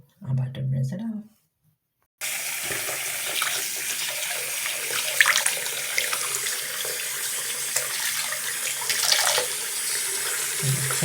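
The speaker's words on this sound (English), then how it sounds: "I'm about to rinse it off." Water from a faucet rinsing a bathroom sink during deep cleaning, a steady close rush of running water that begins after a short quiet gap, preceded by brief low voice sounds.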